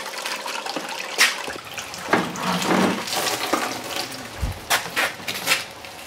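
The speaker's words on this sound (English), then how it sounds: "I'm using the Gold Fox Mini Monster Power and water pump" A Gold Fox Mini Monster power and water pump runs during gold prospecting, pushing water in a steady rushing, splashing wash with a few louder gushes and sloshes, heard up close with no voices.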